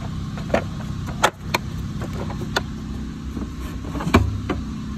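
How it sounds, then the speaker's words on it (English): Air compressor running in a workshop, a steady low droning motor hum throughout, with a few sharp clicks and knocks on top. "Sorry about the air compressor."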